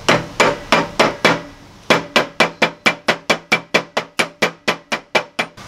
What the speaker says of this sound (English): Let's see if we can drive this in with our plastic dead blow without